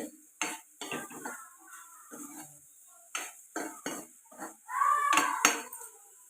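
A spoon scrapes and stirs a dry potato and carrot fry in a pan, with intermittent metallic scrapes and clatters separated by quiet gaps.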